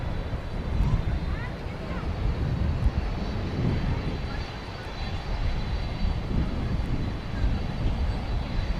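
An airplane, probably American 1720, landing on runway 18 right at DFW Airport at night, a steady broadband engine roar holding at even loudness throughout, with people talking faintly underneath.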